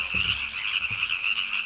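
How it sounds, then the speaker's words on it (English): Frogs croaking near the old Tuolumne Gold Dredge, a historic iron machine overtaken by nature, with a dense, steady trilling chorus and a few low close croaks underneath, no voices. "the sound of croaking frogs is all you'll hear as nature takes over the behemoth and historic iron machine"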